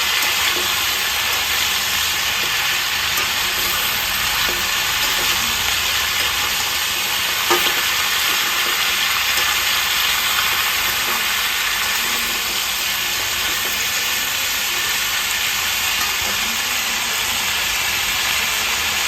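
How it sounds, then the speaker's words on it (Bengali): Bitter gourd and drumstick vegetables frying with salt in a pan give a loud, continuous sizzle and hiss, with soft stirring scrapes running underneath throughout. "লবণ দিয়ে আমি খুব ভালোভাবে নাড়াচাড়া করে দিয়েছি।"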